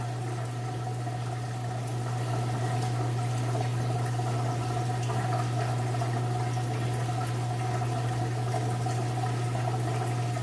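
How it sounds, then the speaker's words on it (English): A Hotpoint washing machine drains its water after the rinse-and-soak stage, giving a steady low pump hum with a continuous watery rush, fairly quiet and unbroken throughout. "You can hear the drain running"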